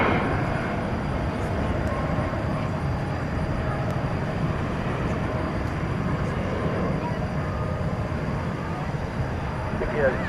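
A jet airplane takes off at night at DFW Airport, its engine roar a steady, broad rumble that holds for the whole stretch, with faint tonal whine and occasional clicks layered on top.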